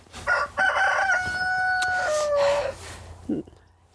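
Backyard chickens in a coop during a cold snap: a rooster lets out one long, loud crow close by, framed by short clucks before and after.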